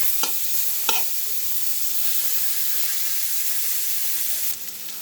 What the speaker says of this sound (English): Sliced onions. And we're going to let this cook.